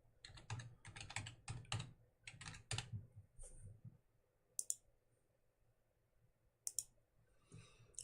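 Typing on a computer keyboard while working in the Euro Truck Simulator 2 map editor: rapid bursts of close, crisp key clicks in several quick runs, then a few isolated sharp clicks after a pause, with no talking.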